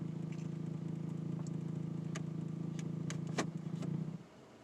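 Vibration noise from a second-generation Toyota Tacoma pickup with the transmission in gear, a steady low droning hum with faint rattly ticks on top, ending abruptly near the close.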